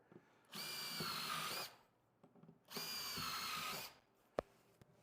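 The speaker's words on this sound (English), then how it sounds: "use a larger drill bit just for the thickness of the blade" Two bursts of a power drill with a large bit running at steady speed into a motorcycle hardbag, each lasting about a second, close by, separated by quiet pauses and a sharp click.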